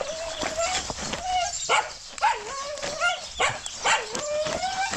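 A village dog in the countryside keeps yipping, whining and barking in excited bursts near a spot where clothes are being washed, with someone talking over it throughout.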